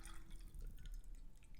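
Boiled hot water pours into a vessel for white tea in a short, steady, quiet trickle with faint dripping, close by.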